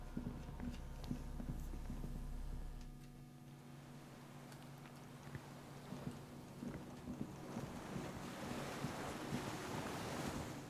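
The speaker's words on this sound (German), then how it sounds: "Unten rauscht das Wasser. Sehr weit unten." Water rushing far below in the video game Disco Elysium, a soft, distant whooshing roar like surf with a windy hiss, faint and continuous and without any voices.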